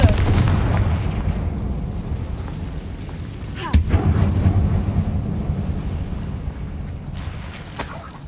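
A Confringo fire spell blasting inside a tomb-like mine in Hogwarts Legacy, a loud rumbling boom that swells and fades, with a second sharp burst midway and low rumble continuing after.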